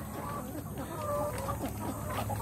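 Clucking from an Embrapa laying hen, a few soft, close clucks that repeat against a steady low background hum.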